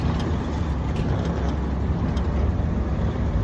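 An infantry truck drives near the Ukrainian front line, heard from on board as a loud, continuous rumble of engine and road noise with faint rattles and no speech.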